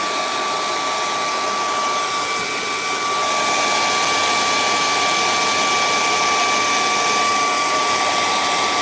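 A hair dryer blows steadily to dry wet paint on a waterfall painting, a loud continuous whirring hum with a faint tonal whine running the full length without pause.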